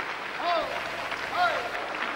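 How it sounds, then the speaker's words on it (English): Crowd applauding at a wrestling bout in Hereford Leisure Centre, a steady wash of clapping with faint voices mixed in, swelling twice during the short stretch. "Applause from the crowd here at the Hereford Leisure Centre"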